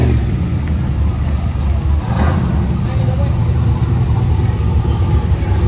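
A car with a big turbo revs at a street show-and-go after party, a loud, steady engine roar mixed with crowd chatter and nearby voices.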